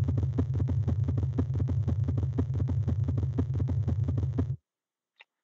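Sonified pulsations of a pulsating red giant star form a dense, rapid throbbing drone with a deep low rumble and regular beating clicks, loud and steady, then cutting off abruptly, followed by a tiny blip.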